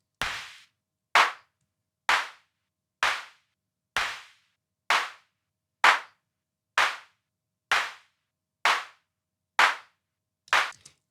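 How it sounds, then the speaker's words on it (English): A designed clap sample processed with OTT compression and reverb, struck alone twelve times at a steady pace of roughly one per second, each sharp crack trailing off into a short bright reverb tail. "And actually, reverb sounds very cool with claps."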